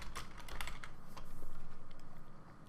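Quick, light keystrokes on a computer keyboard come in an uneven run of soft clicks, close and quiet, with no voice over them.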